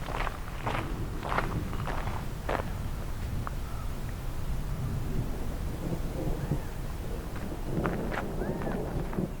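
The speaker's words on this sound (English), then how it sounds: "Some lovely thunder around here." Low rumbling of distant thunder rolls under light rain and scattered footsteps, with faint bird calls in the background.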